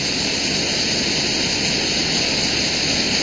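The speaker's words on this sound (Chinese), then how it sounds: "通过湍急的河水" Turbulent river water rushes steadily where a collapsed bridge forces rescuers to wade across the riverbed, a loud, continuous broadband roar with no pauses and no voices.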